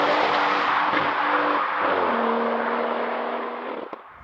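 A tuned 700bhp BMW M340i with a B58 engine is driven hard, its engine roaring loud and close with a raspy, screaming tone and tyres squealing, then the note dies away.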